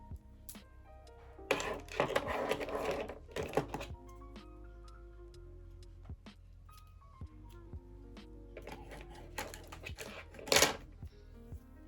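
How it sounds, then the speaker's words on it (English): Scissors snipping curly hair during an at-home cut, heard as a scattering of short, crisp clicks and snips at close range, some coming in quick clusters, with quieter handling sounds between them and no talk. "Not gonna cut too much, just snips."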